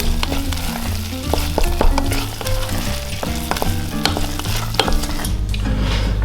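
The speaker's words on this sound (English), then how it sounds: "Give this a stir." Lentils stirred into a thick tomato sauce in a pan, bubbling and sizzling loudly up close, with repeated spoon clacks and scrapes against the pan throughout.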